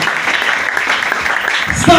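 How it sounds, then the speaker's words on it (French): A church congregation claps and cheers for the Lord in a steady, dense wash of applause, close and loud throughout. "Est-ce que tu peux acclamer pour le Seigneur?"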